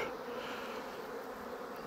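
A dense, continuous buzzing of many honeybees in a hive, steady and close, with no other sounds.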